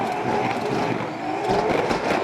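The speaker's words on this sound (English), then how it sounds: "2JZ absolutely popping off the limiter" A 900-horsepower 2JZ-powered Spec 5 Mustang drift car at a pro drift championship qualifying round in Wellington, engine held loud and raspy near the rev limiter with steady, harsh buzzing over tire noise throughout.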